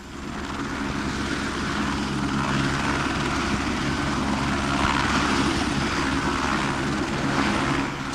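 A transport helicopter in a 1986 Albanian adventure film set in snow gives off a steady, loud rotor and engine drone that holds at an even level throughout, with no talk.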